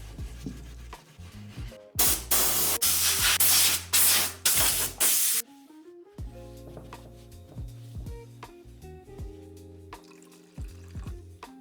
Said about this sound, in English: Time to do what I will call my third coat of polyurethane.